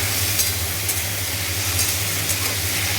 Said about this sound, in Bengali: এবার তেলেতে আলু দেবো